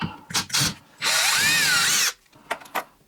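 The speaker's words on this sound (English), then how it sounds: "I'm going to use cordless impact. Take them out." Cordless impact driver backing out electrical outlet screws, one sustained whirring burst of about a second with rising pitch, framed by short clicks and handling noise, no voices.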